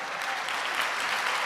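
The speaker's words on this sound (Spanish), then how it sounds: "dele un fuerte aplauso al Señor" Loud, steady applause from a church congregation fills the short stretch without pause, dense and even throughout.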